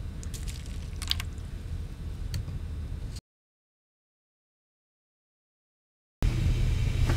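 Alka-Seltzer fizzes in cabbage juice with a close, steady crackling hiss of bursting bubbles, in two stretches separated by a few seconds of silence.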